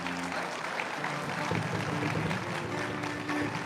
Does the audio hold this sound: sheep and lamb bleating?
no